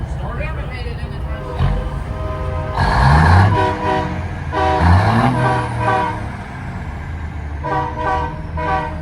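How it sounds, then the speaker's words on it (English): Big rigs sound deep air horns at a truck show, a few long blasts and overlapping toots trading back and forth, loud and fairly close, with people chatting underneath. "Are they honking at each other?"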